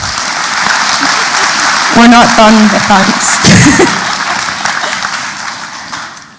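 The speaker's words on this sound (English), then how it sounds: "That was definitely worthy of applause." Audience applause bursts out and swells at a talk on a young transgender person's experience, clapping steady and fairly loud, and a speaker talks briefly over it.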